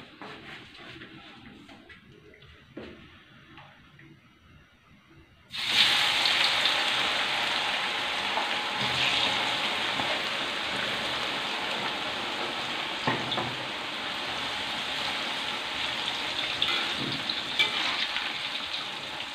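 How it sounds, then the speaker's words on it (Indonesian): Tempeh frying in a pan for a stir-fried chayote dish, a sudden loud burst of oil sizzle that settles into a steady, close crackling hiss after quiet kitchen sounds. "Saya mau goreng tempenya dulu sahabatku ya."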